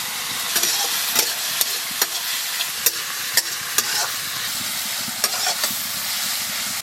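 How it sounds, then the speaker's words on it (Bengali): Leafy greens frying in a pan with salt and turmeric, a steady hiss of sizzling oil broken by about a dozen sharp scrapes and taps of a stirring spoon, with no talk. "খুলে দেখি কতটা শাকটা ভাজা হইল"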